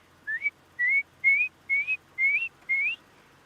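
A person whistles an imitation of the red-crested korhaan call, six evenly spaced rising whistles with short gaps between them, clear and close against quiet outdoor ambience.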